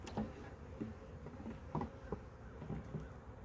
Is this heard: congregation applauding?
no